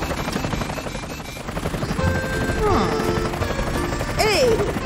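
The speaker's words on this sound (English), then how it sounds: "Careful, Super Helicopter. No need to rush." Cartoon helicopter flying in an animated children's show, a steady rotor-like chop with whooshing, swooping tones and effects layered over a busy soundtrack.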